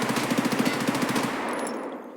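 Rapid automatic bursts from an MPX submachine gun in Escape From Tarkov, a fast even rattle of close shots for about a second and a half, then a brief ringing tail fading out.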